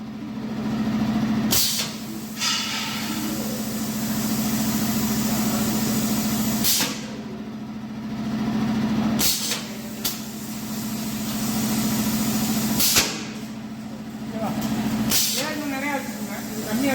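Pneumatic punching machine on a workbench with a 9 mm punch, sharp bursts of compressed air hissing out at intervals over a constant low mechanical hum, with someone talking nearby.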